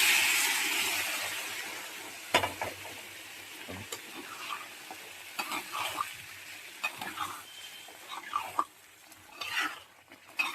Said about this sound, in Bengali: এবার সিদ্ধ করা মটরটা ঢেলে নিচ্ছি।